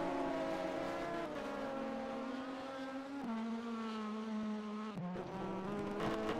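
A BMW M3 GT race car in rFactor 2 at Misano holds a loud, sustained engine drone, rising and falling in pitch with gear changes and a sharp shift near the end.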